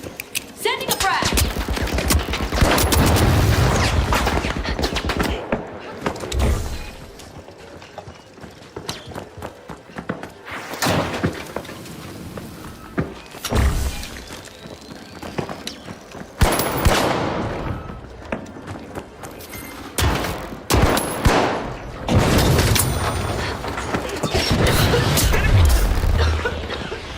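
Frag grenade blasts and bursts of gunfire in the shooter game The Finals, sharp loud hits scattered through constant chaotic action noise, with a voice talking at times.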